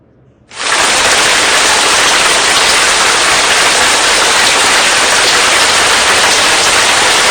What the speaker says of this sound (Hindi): जब ज्यादा बारिश आता है तो ज्यादा पानी आता है।